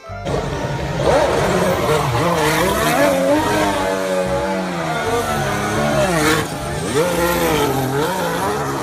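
Race car engines scream past with high, sweeping pitch changes, a continuous loud whine rising and falling as they accelerate and shift.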